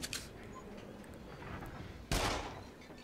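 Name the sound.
gunfire shooting clowns in PSVR game Rush of Blood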